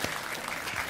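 Warm congregation applause in a church welcoming an elder, a brief steady wash of clapping from a crowd.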